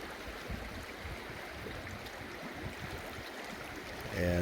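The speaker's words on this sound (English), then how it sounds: "I could fall asleep to the sound of that, to the Hoh River there." The Hoh River flows through the Hoh Rain Forest in Washington, a faint, steady wash of rushing water heard from a distance along a trail, with a slight rise in level at the very end.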